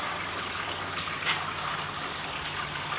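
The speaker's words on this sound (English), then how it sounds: "we need to start adding some water to this" Water pours steadily onto a grain bed in a homebrew mash for a Java porter, a continuous, even gush close by with no voices.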